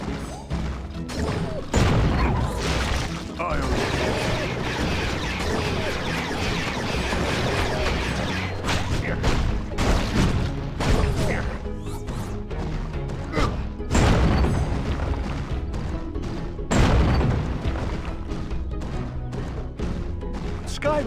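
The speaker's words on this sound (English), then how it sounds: "A bomb should do the trick." In Skylanders: Giants, a bomb blasts through unfortified walls: a loud, dense run of crashes, booms and heavy thuds, with sharper hits near 2, 10 and 17 seconds over a steady bed of game noise.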